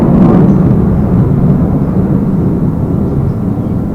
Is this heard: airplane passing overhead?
yes